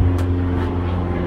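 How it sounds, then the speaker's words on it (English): A light plane flying above a residential neighborhood near North Las Vegas Airport on a hot day, giving a steady, continuous low engine drone that stays loud and even throughout, with no talking. "A little light plane flying above"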